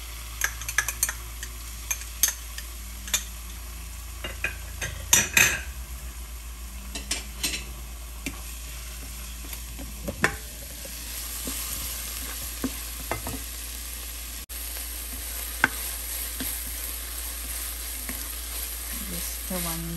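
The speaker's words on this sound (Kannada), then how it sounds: "ಜಸ್ಟ್ 1 ನಿಮಿಷ ಹಸಿ ವಾಸನೆ ಹೋಗೋ ತನಕ ಫ್ರೈ ಮಾಡ್ಕೊಳ್ಳೋಣ, ಸಾಕು." Ginger garlic paste fries in a pan while a squash paratha is being made, producing a faint, continuous sizzle broken by sharp clicks and scrapes of stirring, close by and with no voices.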